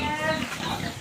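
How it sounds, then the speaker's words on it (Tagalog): Pigs grunting and oinking close by in a short burst, with a person's voice mixed in. "mga baboy"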